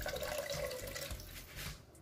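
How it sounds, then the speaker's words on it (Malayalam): Water is poured into a pot while making chicken dum biryani. It gives a short, quiet splashing gush lasting about two seconds. "വെള്ളം ഫുള്ളായിട്ട് അതിലേക്ക് ഒഴിച്ചു കൊടുക്കുക"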